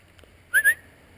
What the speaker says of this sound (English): Give some whistles here.